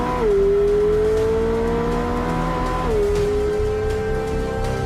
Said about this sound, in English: plus the soundtrack of the exhaust